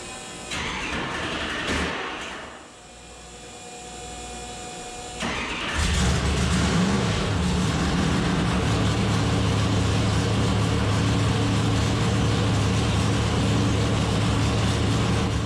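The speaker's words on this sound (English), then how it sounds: "We got it lit here. This thing fired right up." A Dart 400 small block Chevy V8 on a dyno cranks briefly, then fires and settles into a loud, steady, lopey idle that fills the rest of the clip, with no talk over it.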